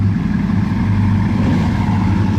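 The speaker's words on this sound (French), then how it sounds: "je viens d'entendre la Chiron Super Sport démarrer juste à côté, là, ici" Bugatti Chiron Super Sport running nearby in a village, a loud, steady deep engine rumble with a dense low drone throughout.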